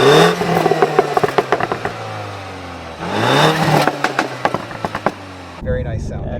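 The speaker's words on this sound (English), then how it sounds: "with sport you'll get a bunch of pops and crackles when you let off the gas at the higher RPMs" A 2019 Mini John Cooper Works Clubman in sport mode revs up twice, with sharp exhaust pops and crackles as the throttle comes off at high RPM, loud and close inside the car.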